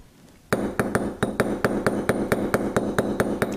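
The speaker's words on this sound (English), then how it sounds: "So I'm going to use my tube setting punch, and we'll get those stones set into place." Metal hammer strikes on a tube setting punch, setting stones into bezels on a bracelet made with decorative gallery: about fifteen bright, ringing taps in a steady even rhythm, close and alone.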